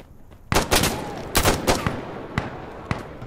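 Bursts of gunfire from the video game Insurgency Sandstorm, several loud sharp volleys and single shots in quick succession, close and dominant, with no talk over them.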